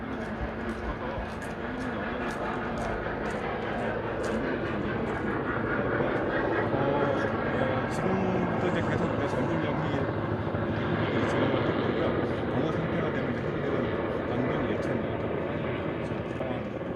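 A firefighting helicopter in flight during wildfire suppression drones steadily and loudly for the whole stretch, its rotor and engine noise continuous with a faint rhythmic chop.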